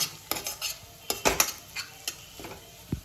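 A spoon stirs and scrapes egg biryani masala in a pan with intermittent clinks and light sizzling, close and moderately quiet, with no voices.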